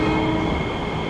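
Metro-North M7A electric commuter train on the Hudson Line in Train Simulator 2021, running with a continuous loud rumble and steady motor hum, no pauses.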